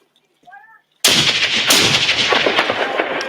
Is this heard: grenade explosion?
yes